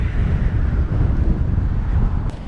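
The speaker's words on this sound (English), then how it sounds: "We are entering the canyon and it is very windy." Strong wind buffets the microphone on entering a canyon along the Alpine Loop, a loud, steady low roar with continuous rumbling gusts and no speech.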